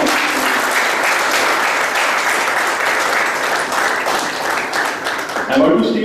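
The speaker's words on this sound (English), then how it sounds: "A big round of applause." An audience applauds after a guest lecture, a sustained and loud burst of clapping that fills the room, with a voice briefly audible near the end as the clapping thins.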